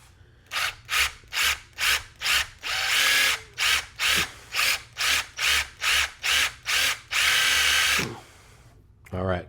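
A power drill with a 3/16 bit working on a Kawasaki Pathfinder, loud and close, whirring in a steady series of about a dozen short bursts with two longer sustained runs.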